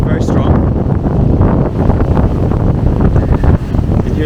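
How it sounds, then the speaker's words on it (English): Strong wind buffeting the microphone at a lakeside motorcycle campsite, a loud continuous roar with gusty rumble throughout. "the wind is still very strong"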